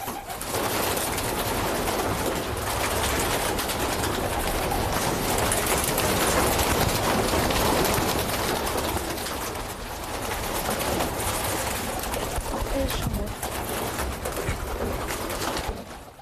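City pigeons coo continuously up close, their low throaty calls overlapping in a dense, busy chorus with occasional wing rustles.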